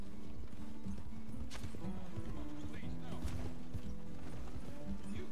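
Horse hooves clip-clop steadily in the video game Red Dead Online, a continuous, fairly quiet trotting rhythm under mechanical game sounds and voices in the background.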